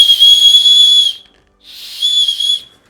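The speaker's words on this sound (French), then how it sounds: "Donc on a un petit sifflet." A small safety whistle built into a hiking backpack shrieks twice, each a loud, steady high-pitched blast of about a second with a short silent gap between them.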